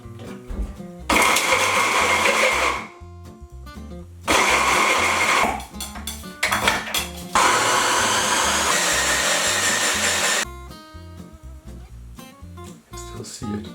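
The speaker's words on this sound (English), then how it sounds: "you'll have to blend the crap out of this one" A kitchen blender pureeing onions for Danish meatballs, running in several loud, whirring bursts that start and stop abruptly, with quieter pauses in between.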